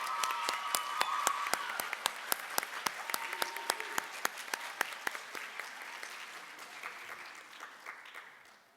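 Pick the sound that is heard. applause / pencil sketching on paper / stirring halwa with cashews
applause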